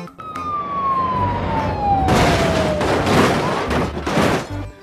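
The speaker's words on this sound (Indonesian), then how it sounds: "ada truk pemadam kebakaran" Toy fire engine siren, a loud electronic wail that sweeps downward, overlaid by clattering bursts as plastic toy vehicles are handled, all close to the microphone.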